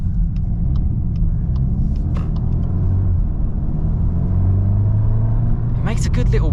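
A 2025 VW Golf R Black Edition Mk8.5 drives on with a steady low engine rumble and road noise, a soft rising whoosh building near the end, while a person talks over it from inside the cabin.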